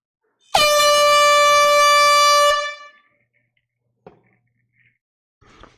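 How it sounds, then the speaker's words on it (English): A single loud air horn blast rings out for about two seconds as a sound effect, then cuts off, followed by a couple of faint knocks and clicks in the quiet. "Jake, Paul, air horn's coming."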